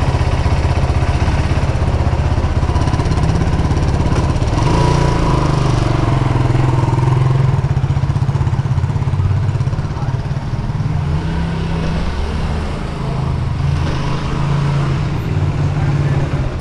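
Several dirt bikes idle and rev beside a gas station with police nearby, a loud, continuous low engine drone with rising and falling throttle swells throughout.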